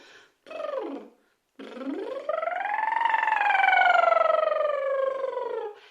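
A voice imitates an industrial siren as a vocal warm-up: two short rising-falling whoops, a brief pause, then a long sustained wail that climbs and slowly sinks, fairly loud and close.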